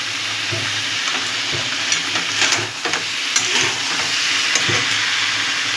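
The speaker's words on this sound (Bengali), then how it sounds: "এইবার আমরা ইঁচড়টাকে এর মধ্যে দিয়ে দেবো। দিয়ে আবার কিছুক্ষণ নাড়াচাড়া দেবো।" Jackfruit pieces fry in hot oil with spices in a pan, a continuous close sizzle broken by several stirring scrapes, with no voices.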